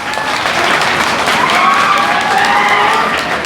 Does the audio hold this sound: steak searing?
no